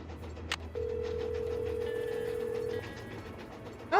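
A phone call placed in the Nancy Drew: Last Train to Blue Moon Canyon game: a brief click, then a steady ringback tone lasting about two seconds over faint background hum, followed by a short sound as the line connects.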